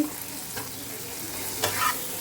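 Steady crackling sizzle of food frying in a pan, with a couple of scraping stirs and clinks, close by and without talk.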